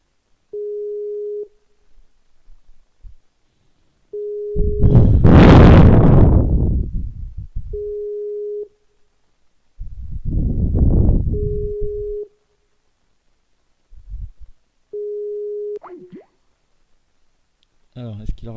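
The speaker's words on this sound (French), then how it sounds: "ah non, ça sonne." Skype call ringing tone repeats as steady electronic beeps at regular intervals, alternating with bursts of loud noise and a person speaking French between the rings.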